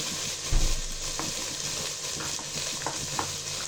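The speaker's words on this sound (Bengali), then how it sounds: "দিয়ে 2-3 মিনিট নাড়াচাড়া দিয়ে দিব" Cabbage and carrot for chicken fried rice are stir-fried over high heat, giving a continuous close sizzle with a thump and scattered scraping strokes of the spatula against the pan.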